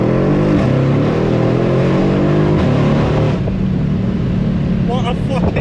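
A car engine at a Cars and Coffee meet in New Zealand drones loudly and close by, its pitch swelling slightly as it revs.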